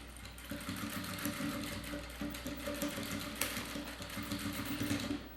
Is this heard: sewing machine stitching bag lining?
yes